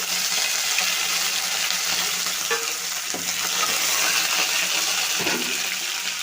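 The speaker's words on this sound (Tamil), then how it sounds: "லோ ஃப்ளேமில் வச்சுக்கிட்டு கடுகு உளுந்து போட்டு வெந்தயம் போட்டுக்கிடுவோம் இப்போ கருவேப்பிலை போட்டுக்குவோம்" Mustard seeds, urad dal, fenugreek and curry leaves sputtering in hot oil over a low flame, a steady loud sizzle and crackle with scattered pops throughout, no talking.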